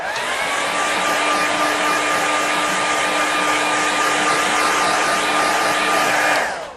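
A hair dryer blows steadily on a watercolour painting of Loch Shin, a loud continuous whirring hum with a fixed whine that runs unbroken for several seconds before cutting off at the end.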